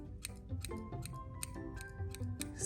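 Scissors snip through curly hair during a home trim, giving a string of short, crisp clicks close by in an irregular rhythm, alone without talk.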